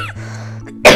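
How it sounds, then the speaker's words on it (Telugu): A single sharp cough bursts out at the very end from someone still recovering from a cold, after a steady low hum fills the room. "నాకు ఇంకా దగ్గు కూడా తగ్గలేదే"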